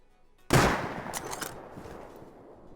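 A single rifle shot fired with regular ammunition in the survival game Rust, a sharp loud crack after brief quiet, followed by a ringing echo and decaying tail with a few faint trailing pops.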